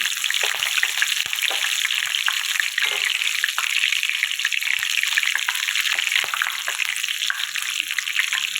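Cumin seeds tempering in hot oil with bay leaf and green chilies give a steady, dense sizzle and crackle that carries through the whole stretch, close and fairly loud, with no voices over it.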